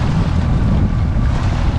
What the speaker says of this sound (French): On a gardé un peu de moteur parce que sinon on n'avance pas.